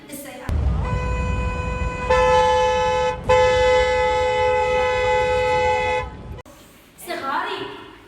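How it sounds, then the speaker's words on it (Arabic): A car horn blares in a long, steady honk that grows louder partway through, pauses briefly, then sounds again at full strength before stopping, with a voice speaking right after. "أسمعكم صوت منبه السيارة."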